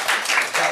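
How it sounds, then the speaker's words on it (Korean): An audience claps together in a short burst of applause during a church discipleship school session, brief and moderately loud. "박수 한번 주세요"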